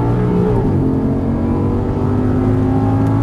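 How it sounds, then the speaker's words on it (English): An Audi R8 engine roars loudly at full throttle, pitch climbing steadily and then dipping briefly at an upshift before rising again, heard close and continuous with no talk. "start squeezing the throttle, and as you unwind, go full throttle here"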